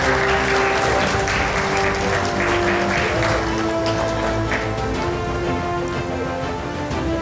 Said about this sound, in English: Can we applaud a little louder?